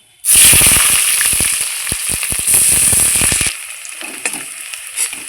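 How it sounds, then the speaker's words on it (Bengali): Loud, sudden burst of sizzling as chopped onion hits hot oil, with rapid crackling and popping that eases after a few seconds into quieter frying. "এবার আমি দিয়ে দিচ্ছি পেঁয়াজ কুচি"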